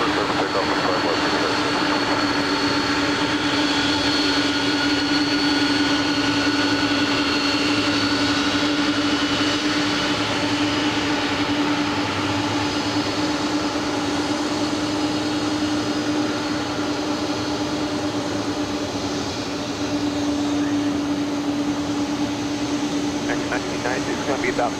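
A jet airliner rolls for takeoff on runway 25 Left at LAX, a steady loud engine roar with a strong sustained whine that holds for the whole stretch, blended with radio voices.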